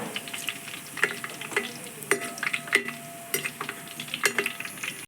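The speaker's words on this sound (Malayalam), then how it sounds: "ചതച്ച് വെള്ള വെളുത്തുള്ളിയൊക്കെ നല്ല ഗോൾഡൻ ബ്രൗൺ ആക്കി നമുക്ക് വറുത്ത് കോരണം" Crushed white garlic frying in hot oil until golden brown, with a steady crackling sizzle broken by sharp scraping and tapping strokes from stirring in the pan.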